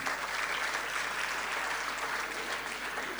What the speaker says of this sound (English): I think you guys, the guests, need an enormous round of applause for yourselves, please.